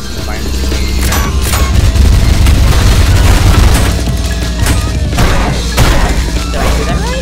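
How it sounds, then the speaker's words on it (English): Loud, rapid explosions and crashing impacts from a grenade fired out of a nail gun in the ULTRAKILL video game, with dense booms and metallic clatter overlapping for several seconds at close range. "Right grip to fire a nail and then can be tricked to fire the grenade again."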